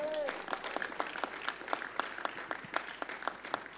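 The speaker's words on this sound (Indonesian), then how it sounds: "Beri tepuk tangan yang lebih meriah lagi buat mereka" Applause for a newly blessed couple at a church wedding ceremony: a light, fairly distant patter of scattered clapping with a few sharper individual claps and a brief vocal sound at the start.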